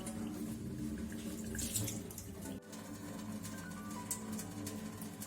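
Water runs steadily from a water purifier being rinsed to flush out white powder particles, a continuous splashing flow into a sink, close and fairly loud, with one brief knock midway.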